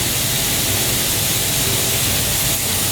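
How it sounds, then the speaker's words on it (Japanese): Thin slices of meat searing over high heat for a barbecue rice bowl give a loud, steady, unbroken sizzle that fills the whole stretch without pause. "肉はある程度強火で一気に焼いちゃいます"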